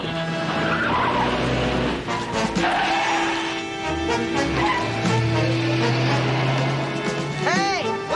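Car tires skid and squeal with braking in a dramatic movie scene, a loud sustained screech under busy soundtrack noise and some voices, ending with sharp ringing tones.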